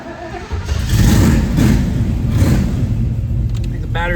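A 1969 Chevrolet Camaro with a weak battery cranks and fires up, a loud close rumble that catches after half a second and settles into a rough, uneven running roar, with a faint voice near the end.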